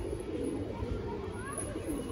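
Soft cooing from closed-tail Saharanpuri pigeons in cream coloring, faint and low beneath steady background noise throughout.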